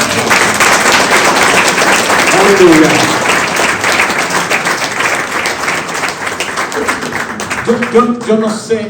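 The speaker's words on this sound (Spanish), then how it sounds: "Le damos un aplauso a Él, amado." Congregation applauding in a church during a sermon, a dense sustained wash of clapping that fades near the end as a voice calls out and worship music begins.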